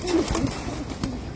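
Rooftop loft pigeons give low, soft cooing calls, close and brief, with faint background noise.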